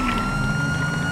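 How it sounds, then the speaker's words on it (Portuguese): A police siren wails steadily and loud in a video game city, a continuous tone with no pauses through the short stretch. "Ativei a sirene que tô atrás."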